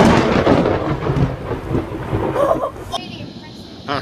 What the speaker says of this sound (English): Lightning strike right in front of me.